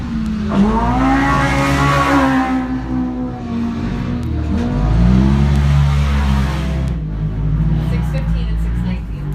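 A UTV race machine at the High Desert 100 desert race roars loudly over tabletop jumps, its engine revving up and down with rising and falling pitch, close and continuous, while an announcer talks over it.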